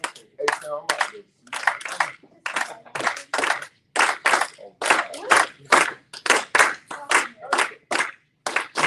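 An audience at an open mic night claps in short, sharp, irregular bursts at close range. The claps alternate and overlap with people talking.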